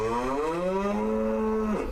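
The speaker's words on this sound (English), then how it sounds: "Winnie is a red Angus beef cow." A red Angus beef cow at an animal sanctuary lets out one long, loud, sustained moo, rising slightly and held steady for nearly two seconds before breaking off at the end.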